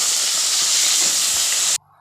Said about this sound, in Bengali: মাছের মাথা বসিয়ে দিয়েছি ভাজা